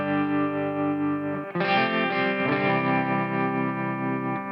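Electric guitar through the Tang Trim preset on a Fender Tone Master Pro, sustained effect-laden chords with chorus and light distortion, a chord change midway, played steadily and alone.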